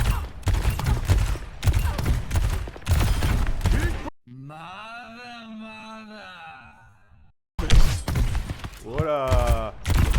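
Rapid bursts of Overwatch 2 gunfire, loud and dense, fill the opening seconds and return near the end, broken by a quieter stretch of tonal game sound in the middle.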